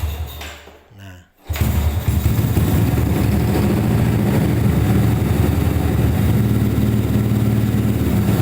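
A modified Yamaha Crypton 130cc trail-style moped engine starts after a brief quiet stretch, then runs loud and steady close by, holding an even idle with a strong low rumble for the rest of the time.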